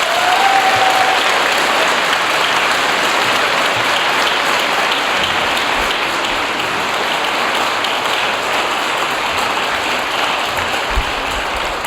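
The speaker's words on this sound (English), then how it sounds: "Can we have another round of applause for Arzu, please?" Sustained audience applause, a dense wash of many hands clapping steadily and loudly throughout without pause.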